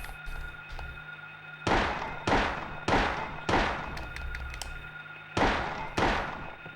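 Six sharp handgun shots from a 9mm pistol in the Silent Hill video game, spaced about half a second apart in two bursts, loud and close over a low background hum.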